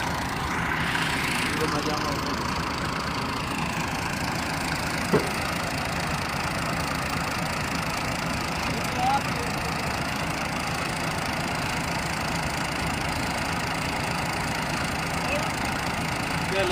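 A loaded tractor hauling a trolley idles close by in a steady, low, unbroken rumble, with voices faintly talking underneath.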